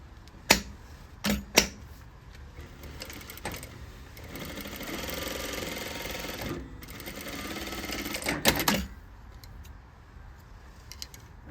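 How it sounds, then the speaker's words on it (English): A domestic sewing machine runs in bursts as it stitches a fabric waistband of a circle skirt, short sharp starts giving way to a steady whirring run of several seconds, close up and with no talk. "we're going to sew a rectangle like this around"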